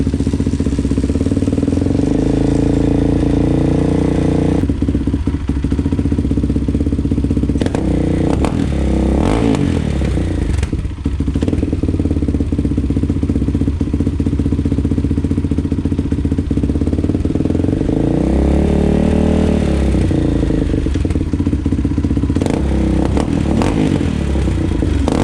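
A dirt bike engine with a freshly repacked muffler runs steadily at close range for the whole stretch, a loud, continuous motor note with mild revving and clatter and no talk.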